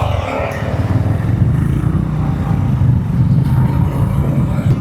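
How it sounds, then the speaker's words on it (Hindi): A new motorcycle with a fresh exhaust silencer rumbles steadily while being ridden, giving a continuous low, throbbing engine note with wind and road noise mixed in. "पता नहीं आपको आवाज़ आ रही है नहीं आ रही इसमें, साइलेंसर की"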